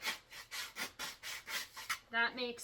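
A wooden flute's edge being sanded by hand, heard as a run of slow, even rasping strokes, about ten in a row, close and fairly quiet, ending in a slightly brighter scrape.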